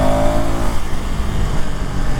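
An Enduro 390R motorcycle's 390 engine hums steadily while cruising on a highway, a loud, continuous drone with wind rush and no pauses.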